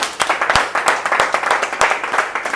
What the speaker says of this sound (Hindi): अभी सर बात कर रहे थे तालियां बजाने के लिए, एक बार बजाएंगे?